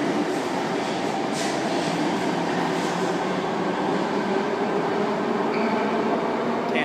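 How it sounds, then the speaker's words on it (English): A Sydney Trains Tangara train rolls into Martin Place station with a steady rumble of wheels on rails, loud and close, with faint squeals near the end. "Tangara arriving on platform 1, Hurstville service."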